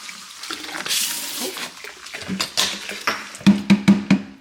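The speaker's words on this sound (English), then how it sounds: "I'll just run the water through." Water runs from a sink faucet over filter parts being rinsed, a steady splashing rush that ends in a few short rhythmic knocks or taps near the close.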